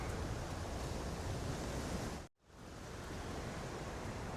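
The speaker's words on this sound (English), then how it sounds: "It's awful windy today." Strong wind gusting through a vegetable garden with flowers and pepper plants, a loud steady roar buffeting the microphone, briefly cutting out midway before resuming.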